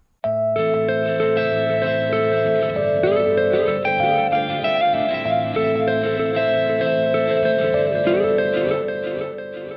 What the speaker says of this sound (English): Now let's listen to the sample with a 3 echo delay.